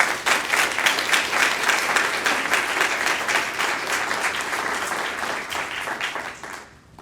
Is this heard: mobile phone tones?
no